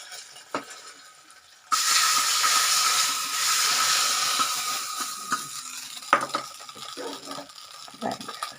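Sweet pongal is stirred in a pan on the stove: a soft sizzle starts suddenly and carries on, with spoon scrapes and light metallic clinks against the pan scattered through it, nearby.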